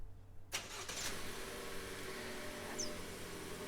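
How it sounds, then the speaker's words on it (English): Toyota RAV4 engine starting by remote key fob, a sudden crank that settles into a steady idle hum, heard close and moderately loud. "The vehicle will respond by flashing the lights and starting."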